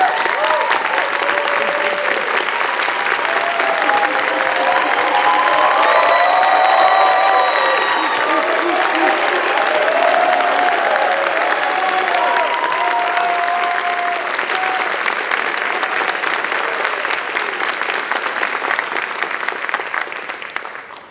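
Loud, sustained applause from a large crowd at a military graduation and patching ceremony, with cheers and whoops mixed in, holding strong for about twenty seconds before tapering slightly.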